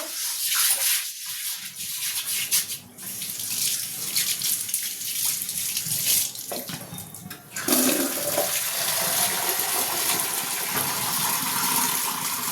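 Tap water runs into a kitchen sink as it is rinsed after washing the dishes. The gushing flow is close and continuous, and its tone shifts and gets louder partway through.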